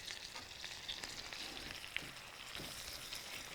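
Large split shell-on shrimp frying in a pan for New Orleans BBQ shrimp, giving a steady, fairly quiet sizzle with faint stirring clicks and no talking.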